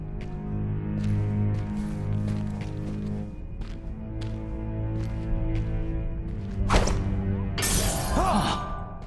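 Glass shatters in the video game Dishonored 2 during a fight in Dunwall, a sharp burst followed by a longer crashing spray of breaking glass over steady game music and ambience.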